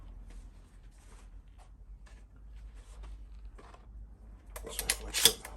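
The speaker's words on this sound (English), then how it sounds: "if I push it backwards, it will release a shell there" A Beretta 1301 Comp shotgun's action is worked by hand to release a shell, giving sharp metallic clicks and a clack near the end after quieter mechanical handling.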